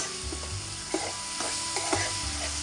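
A spiny gourd curry with tomatoes sizzles steadily in a pan while a spoon scrapes and stirs through it in several distinct clacks over the constant frying hiss.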